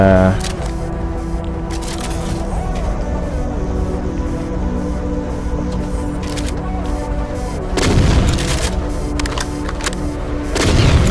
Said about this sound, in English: I sense something is firing at me or shooting at me.